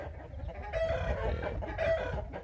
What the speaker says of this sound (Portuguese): Tão bonito o galo índio.